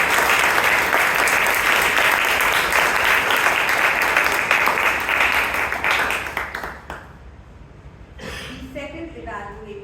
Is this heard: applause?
yes